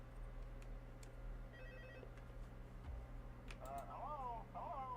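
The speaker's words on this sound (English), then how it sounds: "Let's actually listen to the phone call this time" A phone rings in Five Nights at Freddy's 2, soft electronic ring tones and a few clicks over a low steady hum, with a voice starting near the end.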